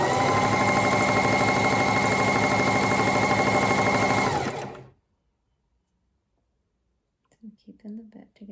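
A sewing machine stitches through newborn tutu fabric, running loud, steady and close for about four seconds before stopping abruptly; after a short silence a person begins talking quietly.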